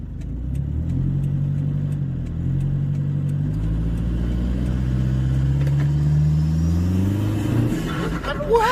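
A modified Toyota Fortuner with a 2KD diesel pulls away from a standstill. The engine drones loudly and steadily, rising in pitch through the gears, and a voice is heard near the end.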